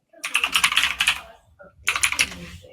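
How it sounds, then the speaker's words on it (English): Two quick bursts of typing on a clicky computer keyboard, crisp close keystrokes in rapid rhythm separated by a brief pause, with no voices over them. "I have a very clicky keyboard."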